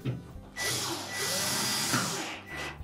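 Close up, a power drill drives a retaining screw into a Samsung dryer during a duct heater replacement, with a short whirring run that rises and then slows.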